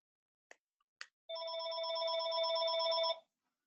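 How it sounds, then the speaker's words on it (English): A mobile phone rings during a presentation in a quiet room, a steady electronic ring lasting under two seconds after two brief clicks, heard alone. "here goes my phone again"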